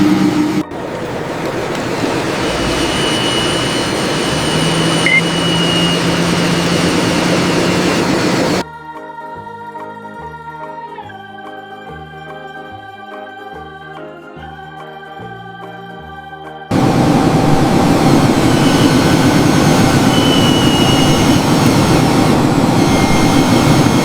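A toy jet aircraft taking off at a miniature airport gives a loud, steady jet-engine roar with a thin high whine. The roar breaks off for a short music interlude in the middle, then returns just as loud.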